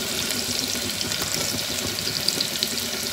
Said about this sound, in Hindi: कैप्सिकम को भी थोड़ा सा फ्राई करना है